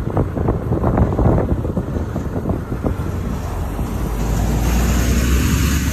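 Heavy, steady wind rush buffets the microphone while riding pillion on an Angkas motorcycle taxi, with the low rumble of the moving bike underneath, constant throughout.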